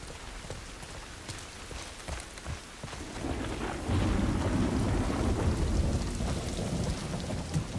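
Steady rain patters in The Last of Us Part 2, joined partway through by a deep rolling rumble of thunder that swells and lingers; no voices.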